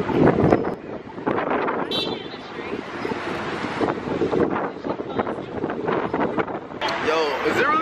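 Gusts of wind buffet the microphone in rough, low rumbling bursts while a person talks over the noise.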